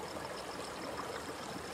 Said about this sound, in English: focus on the sound of a distant stream, its water flowing smoothly over rocks